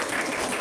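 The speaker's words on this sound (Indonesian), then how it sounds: "Tepuk tangan untuk semuanya." Brief burst of classroom applause from a class of students during a primary-school mathematics lesson, dense steady clapping lasting under a second with no voices over it.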